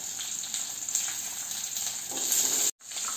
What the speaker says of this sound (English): I'm going to add shallots along with few garlic cloves.